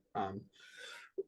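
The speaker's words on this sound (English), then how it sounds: "That was a sneeze. That was a very quiet sneeze." A single quiet, stifled sneeze: a short voiced catch, then a soft breathy hiss of about half a second and a tiny closing click, close and alone.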